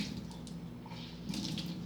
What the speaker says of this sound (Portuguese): uma boa torcida, tirar o excesso de água